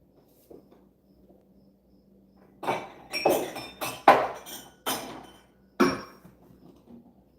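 Glasses, including champagne and crystal glassware, clinking as they are carried to a party table: a scattered series of sharp, bright clinks and knocks, some close together, set against a quiet room.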